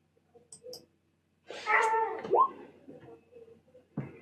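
A domestic cat meows close by, one drawn-out, rising-and-falling call followed by a shorter cry, with faint household sounds and brief quiet moments around it.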